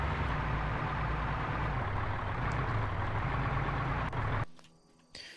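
Heavy military vehicle engines rumble steadily in a large-scale multiplayer combat game, a loud continuous drone that cuts off abruptly near the end, leaving brief quiet before a faint return.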